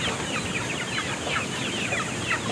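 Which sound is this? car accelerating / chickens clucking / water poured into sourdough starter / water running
chickens clucking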